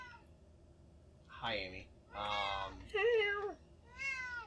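A cat meows several times in a row, each cry rising and falling, close and fairly loud against a low background hum, with a brief spoken greeting nearby.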